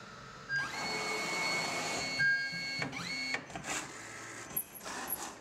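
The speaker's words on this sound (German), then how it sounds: "Das gescannte Abbild des Kopfes wird im 3D-Drucker fast unsichtbar wieder zu einer Statue." A 3D printer producing a statue from a scanned head whirs and buzzes steadily, its stepper motors sliding through changing pitches with occasional clicks and shifts, moderately close and without speech.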